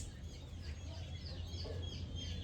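Chickens on a farm cluck softly while pecking grain from the dirt, with faint bird calls over a steady low background hum.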